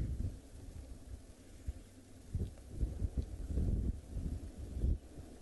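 Wind gusts outdoors at a dam at sunset, rumbling low buffets against the microphone that rise and fall irregularly, fairly faint and alone.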